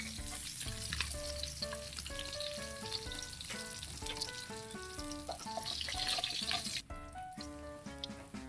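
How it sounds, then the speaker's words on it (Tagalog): Salay-salay fish fry in oil, a faint continuous sizzle heard under tonal background music, with brief clinks and a pause near the end. "Ganda ng pagkapirito. Salay-salay."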